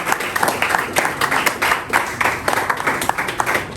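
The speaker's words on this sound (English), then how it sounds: "A round of applause for him." Students at a campus political rally give a round of applause, a lively burst of uneven hand claps from a nearby crowd.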